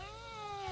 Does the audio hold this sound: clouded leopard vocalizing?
yes